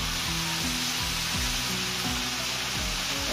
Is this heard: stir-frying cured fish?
yes